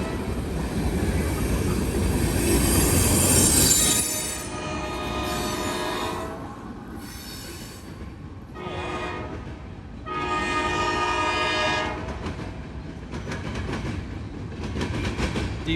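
A train rolls past close by on street-running track, loud and continuous with wheel clatter and squealing on the rails, a horn sounding in bursts over the rumble.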